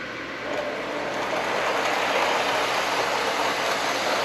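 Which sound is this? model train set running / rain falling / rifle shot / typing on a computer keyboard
model train set running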